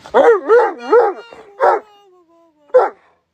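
A dog barks and yips several times up close, loud and sharp, with a longer whining howl-like note in the middle.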